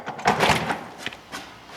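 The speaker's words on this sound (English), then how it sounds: "Looks like let's open this door." A door leading out to the garage of a house opens with a few close knocks and a brief scraping rattle.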